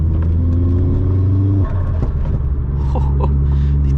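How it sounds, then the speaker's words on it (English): A Vauxhall Astra VXR on a night drive rumbles loudly as its engine holds a steady drone, then drops briefly in pitch before settling again, with faint turbo whooshes and flutters over the low hum. "The turbo noises this thing makes is mad."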